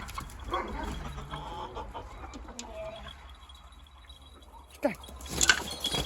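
Chickens cluck softly and intermittently at a distance, with a few sharper squawks near the end over quiet outdoor farmyard background.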